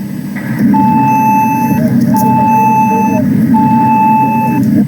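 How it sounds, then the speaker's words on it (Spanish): A Yaesu FT3D handheld radio sounds its emergency alarm: a loud, repeating electronic tone in three evenly spaced pulses over a steady low background hum. "ahí se escucha el sonido de alarma"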